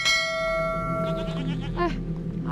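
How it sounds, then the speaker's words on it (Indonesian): A goat bleats nearby, a wavering, nasal cry rising and falling over a steady low hum, alone without talk. "Tapi suara yang embe loh."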